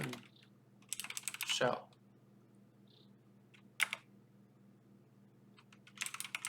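Computer keyboard typing during a terminal session: short clustered bursts of clicky keystrokes, fairly close, separated by quiet gaps over a steady low hum, with a brief spoken word between bursts.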